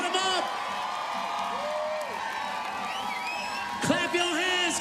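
Crowd at the Gold Coast finish line of the 2026 China Airlines Half Marathon cheers and whoops for the wheelchair 10K winner, a steady roar with scattered whistles and a louder burst near the end, under an announcer's voice.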